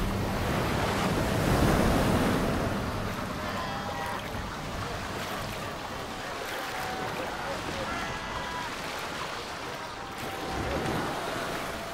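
Ocean surf breaks on a Namibian shore, a continuous, loud roar of waves with swells that rise and fall and gusts of wind across the microphone.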